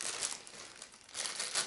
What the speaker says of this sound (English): then you just, can store it back in the plastic bag that it came in.